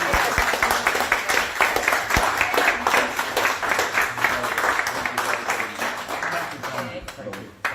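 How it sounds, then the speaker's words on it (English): Audience applause at a political meeting in Glasgow, loud continuous clapping from a roomful of people with some voices mixed in, sustained before tapering off at the end. "Give me applause."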